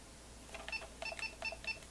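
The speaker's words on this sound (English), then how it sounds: "Hold for around 2 seconds until you hear a single beep." A DJI RC 2 remote controller gives faint, short electronic beeps, several quick tones in a row against a quiet background.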